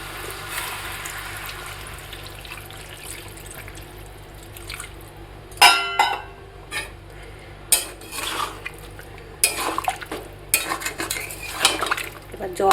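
Spices and vegetables being stirred in a pan for shukto, with a faint low sizzle under sharp scraping clinks of a metal spoon, sparse at first, then in frequent bursts close by.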